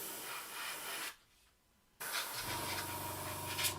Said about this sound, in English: Just putting some air on the model. Make sure we get rid of any dust